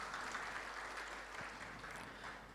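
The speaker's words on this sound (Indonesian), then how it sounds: "Tepuk tangan untuk kita semua." Audience at a gathering of Indonesian museums applauding, a soft distant wash of steady clapping under a low hum, fairly faint and even for the short stretch.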